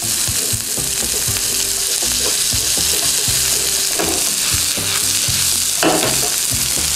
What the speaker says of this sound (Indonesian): Jadi kalau kayak gini kita tumis bumbunya sampai wangi